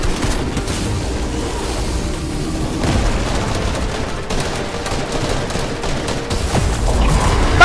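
Booming explosions and rapid gunfire from a Fortnite match fill the whole stretch, dense and loud with several heavier blasts standing out, no talk.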